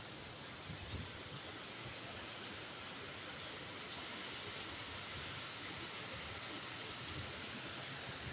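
Heavy rain pours down during a windy storm, a steady dense hiss of falling water that fills the whole stretch evenly without pause, with no voices heard.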